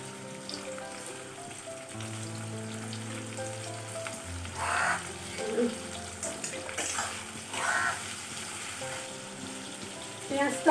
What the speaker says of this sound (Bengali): পেঁয়াজটা টমেটোটা ভালো করে ভাজা হয়ে গেছে